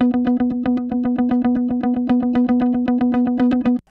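Fender Stratocaster electric guitar played with no effects, one note picked in a fast, even repeated rhythm for about four seconds, clear and close, then stopping abruptly.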